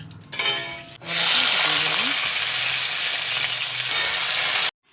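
Chopped eggplant, potato and papaya hit hot oil in a wok and burst into a loud, close, continuous sizzle, with a faint clatter just before it starts and a sudden stop near the end.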